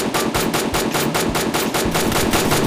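Rapid automatic gunfire rattles in a fast, steady burst in the Free Fire battle royale game, loud and close with evenly spaced shots and no talking.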